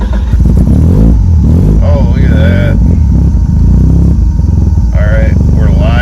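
A Mazda RX-7 with a 13B turbo rotary engine cranks and fires up, then revs loudly and steadily close by, with someone talking over the engine noise.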